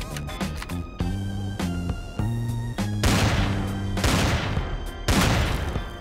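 Sniper rifle shots in the space-survival game Empyrion, several loud sharp blasts in quick succession with booming tails over a steady tonal game soundtrack, no talk.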